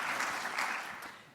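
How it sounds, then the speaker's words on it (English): Audience applause at a graduation ceremony, a steady wash of many hands clapping that holds briefly and then starts to fade, with no talk over it. "One more time, round of applause."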